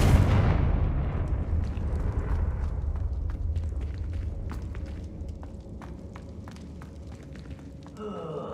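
A single Confringo fire-spell explosion in Hogwarts Legacy bursts loudly up close at the start, then decays into a long rumbling, crackling tail with scattered small impacts and footsteps.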